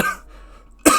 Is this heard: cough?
yes